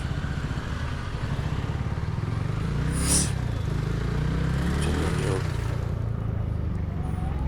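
A motorcycle in a traffic jam runs with a steady, close engine drone that swells slightly as it passes, over a continuous background of street traffic.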